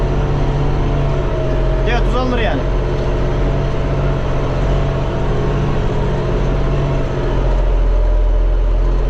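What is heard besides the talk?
Deutz tractor engine running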